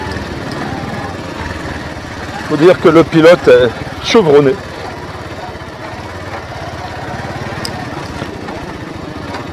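A small motorcycle engine drones steadily close by in Kenya, a continuous buzzing hum running throughout, while someone speaks briefly over it midway.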